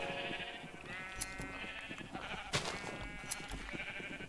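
Sheep in Minecraft bleat in several wavering cries close by, with soft game clicks and thumps scattered between them.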